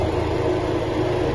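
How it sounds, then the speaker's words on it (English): A Dodge Dart engine idles steadily right after a spark plug and coil swap, with a low, even drone and faint vibration running close and unbroken, and no voices. "the engine seems to run a lot better"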